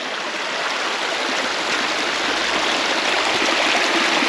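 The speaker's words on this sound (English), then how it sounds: "Water's flowing pretty heavy." Heavy water rushes through a rock-lined irrigation ditch after 2.5 inches of rain, a loud, steady, close hiss and gurgle of turbulent flow with no speech.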